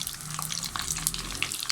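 Chopped onions sizzle in hot oil in a pot for a bhindi masala, a faint, close crackle of frying with a few small pops and no talk.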